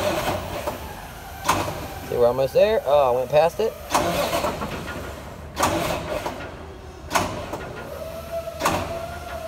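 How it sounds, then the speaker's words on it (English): A truck engine is bumped over with the starter in short cranking bursts, brief whirring pulses separated by pauses, while a person talks nearby. "So now you bump the engine."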